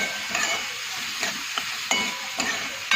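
Gram flour bhurji roasts in a pan with a soft, continuous sizzle, while a spoon stirs and scrapes through it at a steady, repeating rhythm.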